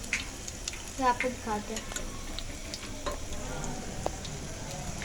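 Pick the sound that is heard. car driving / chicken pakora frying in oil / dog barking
chicken pakora frying in oil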